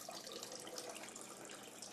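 A steady stream of cold water runs continuously into a sink for cooling during home brewing, a constant, even splashing rush that stays at the same level throughout.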